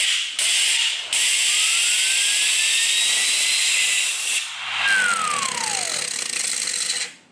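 A 3D printed plastic spinner whirls at high speed, giving a loud, close, jet-like whine that rises in pitch as it spins up, with short gaps, a clicking catch and a falling tone as it slows, then stops.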